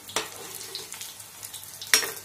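Pakoras fry in a pan with a steady close sizzle and bubbling. A quick clatter sounds as they are flipped.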